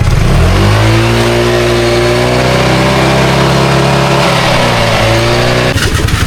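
A car engine revving hard with its exhaust pipe removed, a loud, raw, continuous roar held steady for several seconds before the revs drop off near the end.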